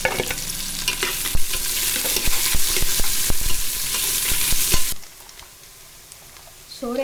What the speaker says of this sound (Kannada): ಅದು ಫ್ರೈ ಆದ ನಂತರ ಈರುಳ್ಳಿಯನ್ನು ಹಾಕಬೇಕು.